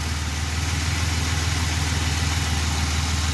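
Steady, low rumbling exhaust idle from a 1987 Chevrolet Celebrity Eurosport 2.8 V6 with a Magnaflow catalytic converter, a continuous throbbing drone with no voices, close and even throughout.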